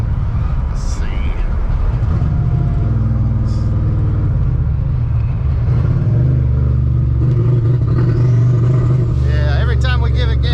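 A supercharged VMP Odin Ford F150 engine running rough and revving under throttle, a loud steady rumble that rises and falls, heard close with background voices.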